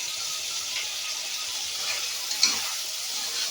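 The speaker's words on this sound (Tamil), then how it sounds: "ஹை ஃப்ளேமில் நல்லா வதக்கிக்கலாங்க" Tomatoes sautéing with salt and chilli powder over a high flame, a soft continuous sizzle with gentle stirring and one brief clink near the middle.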